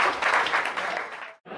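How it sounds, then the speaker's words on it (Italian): Brief burst of audience applause at a live comedy show, loud and dense for about a second before cutting off abruptly, followed by a short resumption. "vi inviterei a fare un applauso a loro per essersi spezzati"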